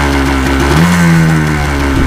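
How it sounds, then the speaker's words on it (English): Manual-transmission ATV engine idling steadily, then revving up under added throttle with the clutch pulled in and easing back down, close and loud throughout with no talk. "we'll pull in the clutch again, and we'll give it some gas again."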